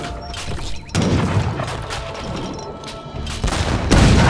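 Cannon fire and battle noise from Age of Empires 3 Definitive Edition, with repeated heavy booms and crashing impacts over a continuous din of combat, loud and close, several blasts landing in quick succession.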